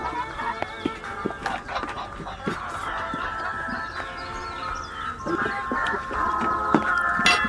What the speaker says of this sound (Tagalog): Manok at huni ng mga ibon ang gumising sa atin